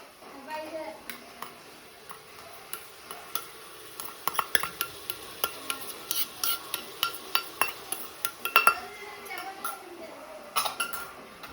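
Garlic-chili paste being sautéed and stirred in a pan in a home kitchen, a quiet run of regular spoon-on-pan clinks and scrapes building to a steady rhythm, with a voice talking over it.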